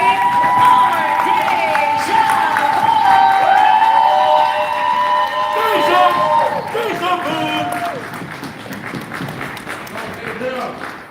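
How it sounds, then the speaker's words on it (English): An audience at a poetry slam festival in downtown Las Vegas claps and cheers for a poet coming to the stage, a loud, dense wash of applause and shouts with a voice talking over it. "start clapping for Deja"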